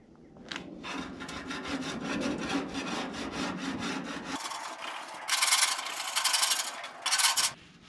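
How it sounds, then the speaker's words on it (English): A scraper scrubbing the degreased interior of a Ducane BBQ grill, with a fast series of rhythmic rasping strokes close by, then louder, harsher scraping bursts toward the end, with no talk. "y'all got to see me scrubbing the interior of this thing a little bit"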